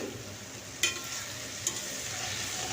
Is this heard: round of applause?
no